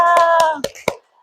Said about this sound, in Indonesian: Tepuk tangan ya Maria untuk kelompok 2.